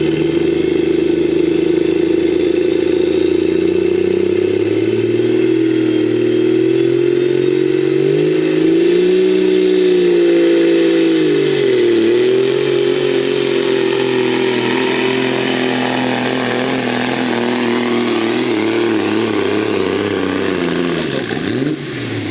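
A modified semi truck rated over 2,000 horsepower roars loud and close at a fairground truck pull, its heavy engine note holding steady under strain, dipping briefly and climbing again as the rig pushes diagonally across the dirt track.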